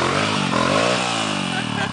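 A motorcycle engine on a rocky dirt trail hums and revs at mid pitch, its tone sliding up and down, loud and close, while someone talks over it.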